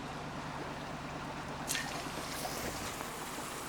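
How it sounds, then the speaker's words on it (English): JOOLCA HOTTAP camp shower starting to run outdoors, a steady broadband wash of water with a brief sharper burst partway through, continuous and close with no talking. "So turn on the shower here."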